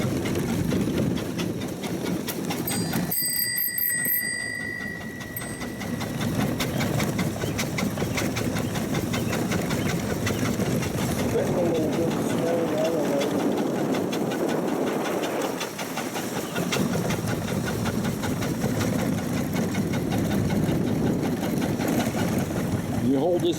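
A 1902 Curved Dash Oldsmobile's single engine runs steadily while driving, a continuous loud mechanical chatter with a brief dip, shifting from low gear to high gear, with people talking over it throughout.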